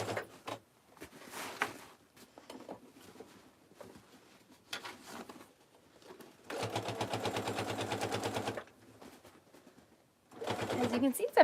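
Sewing machine top stitching around the edge of an Oxbow tote bag, running in sustained bursts of steady rapid whirring with pauses between them as the bag is shifted by hand.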